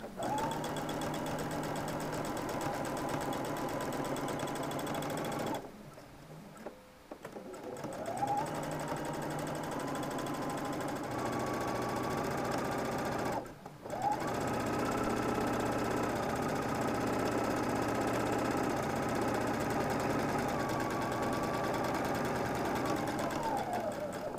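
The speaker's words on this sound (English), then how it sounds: "I'm sewing just in towards the edge, using a marking on my sewing machine foot as a guide." A sewing machine runs in long steady bursts while topstitching a shirt near the edge, a close whirring hum with two short pauses between runs.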